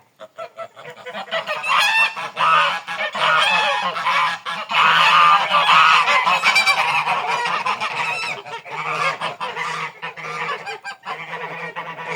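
Geese honk repeatedly and loudly throughout, a busy flock calling close by with overlapping nasal cries.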